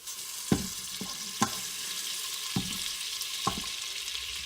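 Butter melts in a hot Instant Pot with a steady sizzling hiss, broken by a handful of sharp pops and crackles at irregular intervals.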